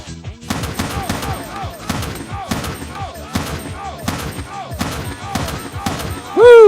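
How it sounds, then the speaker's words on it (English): Repeated gunshots fire in a rapid volley, roughly a dozen sharp cracks in about six seconds, loud and close, with echoing tails. A brief burst of voice comes right at the end. "sometimes when I drink, I like to fire a gun off"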